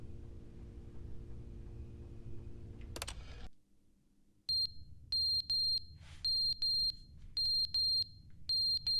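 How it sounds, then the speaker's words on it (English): A fire alarm in the video game The Stanley Parable beeps in repeated sharp, evenly spaced bursts, following a steady low hum that cuts out before the alarm starts. "Fire alarm?"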